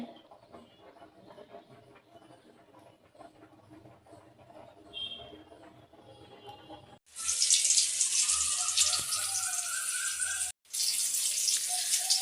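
After a quiet stretch of faint kitchen sounds, a tap bursts on loudly as taro greens are rinsed under it, a steady gush that breaks off once briefly before running on.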